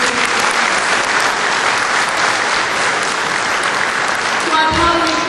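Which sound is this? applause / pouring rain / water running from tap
applause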